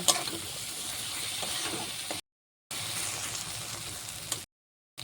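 Masala with turmeric and chilli powder being sautéed in a pan, a steady soft sizzle and stirring, broken twice by short silent gaps.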